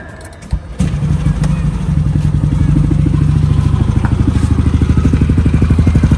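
A Yamaha Nmax scooter fitted with a TDR lithium iron phosphate battery starts on the electric starter after a brief crank, then settles into a steady, close, rhythmic idle with a slight rattling edge.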